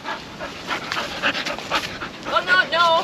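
A friendly dog pants and whimpers close by along a canal trail, quick rhythmic breaths with a few high yips near the end, while a person talks over it.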